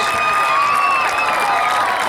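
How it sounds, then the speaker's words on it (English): Crowd applauding and cheering for Brookwood High lacrosse seniors at a 2018 senior night, a steady, dense wash of clapping with whistles and shouts filling the whole stretch. "Let's have a great round of applause for all of our Brookwood lacrosse seniors."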